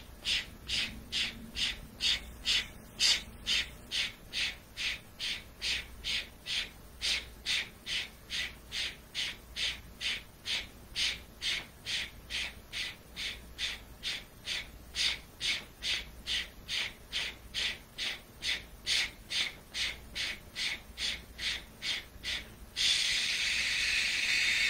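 Rapid breath-of-fire exercise, a long run of forceful rhythmic exhales at a steady quick pace, close and loud, ending in a held breath, with no talk.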